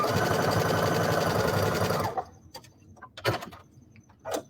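A sewing machine runs steadily, stitching a quarter-inch seam on a quilt block. The loud, even whir lasts about two seconds and stops abruptly, followed by a few faint clicks and light handling sounds.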